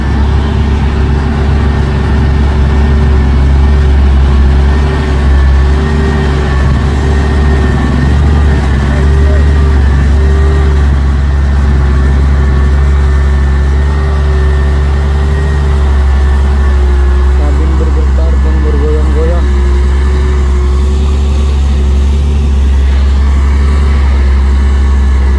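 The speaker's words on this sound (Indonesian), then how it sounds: "Hino truk tangki Hercules." A Hino Hercules tanker truck grinds slowly up the steep Bukit Kodok hill, its heavy diesel engine droning loud and steady under load with a deep low rumble and a faint whine throughout.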